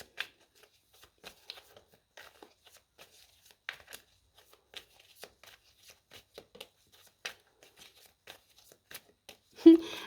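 Tarot cards being shuffled by hand, a quiet, close run of short crisp riffles and flicks spread irregularly over several seconds, ending in a louder clack as the deck is squared.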